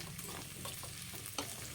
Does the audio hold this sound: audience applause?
no